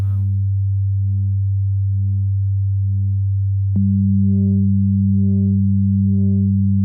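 A steady, sustained wavetable synth tone with a pulsing, shifting timbre; around midway a sharp click, then the tone jumps slightly higher and keeps evolving. No voices.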